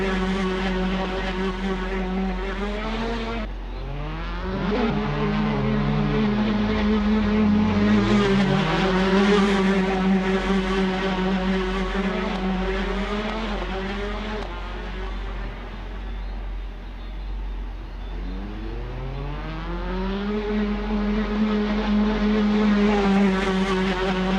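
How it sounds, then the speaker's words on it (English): Engine roar from passing Formula 4 race cars at Thruxton Circuit rises and falls in pitch, loud and continuous, with a few cars sweeping past nearby. "let me know if you guys can hear me over the cars here"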